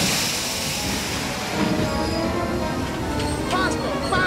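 A train rolls past at close range in a loud, continuous roar. High metallic squeals rise near the end.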